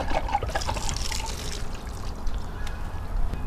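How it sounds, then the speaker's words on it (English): Water trickles and dribbles steadily out of the opened drain on an Intex pool sand filter, a soft continuous liquid flow heard close up with no talking. "I'm going to go ahead and open up the drain on the sand filter."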